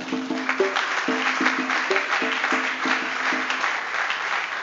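Steady audience clapping at a book launch ceremony runs throughout, mixed with a repeating, bouncy pattern of short musical notes, the sound held at an even, moderately loud level.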